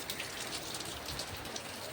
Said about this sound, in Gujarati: बारिश बढ़ गई एकदम